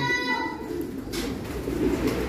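A pigeon coos softly a few times nearby, low throaty calls over a faint background hum.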